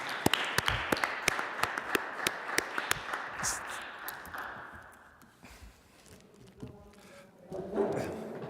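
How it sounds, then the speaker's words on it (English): Audience clapping at a hybrid democracy conference, a crisp round of applause with many sharp claps that fades out after about five seconds, followed by quiet room murmur and shuffling. "I'd just like a round of applause"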